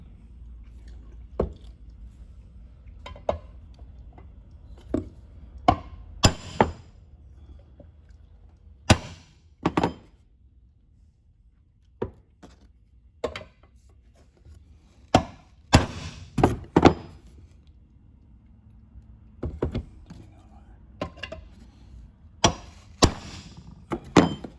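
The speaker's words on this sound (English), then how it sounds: "You're going to hit it from here with a brass drift and then roll it over and then do the other side." A brass drift hammers the end of a Corvette trailing arm bushing, giving sharp, isolated metallic strikes, sometimes single and sometimes in quick pairs or clusters, spaced irregularly across a quiet workshop background.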